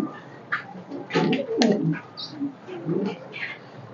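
Pigeons kept in a cage give soft, intermittent coos close by, mixed with faint rustling and shuffling.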